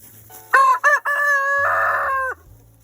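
A rooster crows loudly and close by, one full cock-a-doodle-doo with a long drawn-out final note, alone against quiet surroundings.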